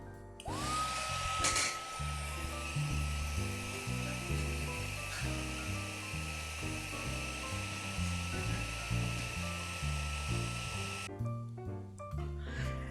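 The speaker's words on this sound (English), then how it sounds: "Next, I'm going to heat emboss this in clear ink, so it's going to look like black embossing." A heat gun blows over clear embossing powder on a handmade card, making a steady, whining, airy roar up close for about eleven seconds before cutting off. Soft background music plays underneath.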